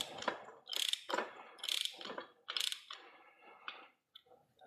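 A torque wrench set to 40 foot-pounds is tightened by hand, giving close, short bursts of ratcheting clicks in a quick uneven series, with no other sound around them.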